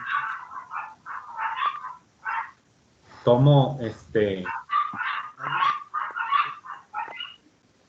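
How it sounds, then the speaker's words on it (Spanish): Dogs bark nearby in two short, loud bursts that break into steady talk. The voices carry on right before and after the barking. "es que hay unos perritos ahí ladrando"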